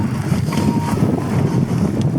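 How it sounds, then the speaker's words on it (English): Strong wind buffets a microphone on an exposed hilltop while bikepacking, a loud, steady, low rumbling roar with no gaps across the whole stretch. "as soon as we drop down here a little bit, we'll be out the wind"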